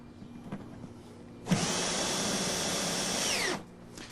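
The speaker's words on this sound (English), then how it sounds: "we'll take our toggle bolt, insert it into our 1/2 inch drilled hole, and then we will just simply screw that" A power drill drives a toggle bolt into a half-inch hole in a plastic container, a single steady whirring run of about two seconds that starts abruptly and winds down, close and fairly loud.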